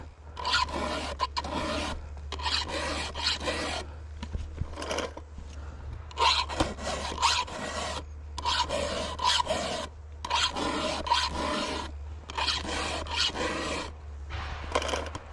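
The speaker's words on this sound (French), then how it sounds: "quand j'affûte un côté, bon des fois ça se voit, on sait où il faut s'arrêter d'affûter" A hand file sharpening a chainsaw chain, with steady rhythmic rasping strokes in repeated bursts separated by short pauses, close and clear, with no talking.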